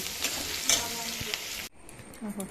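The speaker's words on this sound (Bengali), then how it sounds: "আমি কুলটি ভাজাটা করে নেই" Kulti fish frying in a pan gives a steady close sizzle with a few clinks, then cuts off abruptly and leaves faint quieter kitchen noises.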